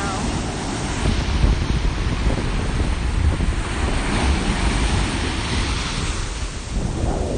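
A strong ocean wave breaks on the shore in a loud, rough roar of surf mixed with gusting wind buffeting the microphone, sustained for several seconds.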